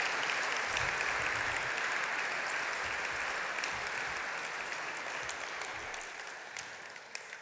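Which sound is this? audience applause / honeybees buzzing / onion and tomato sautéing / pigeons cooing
audience applause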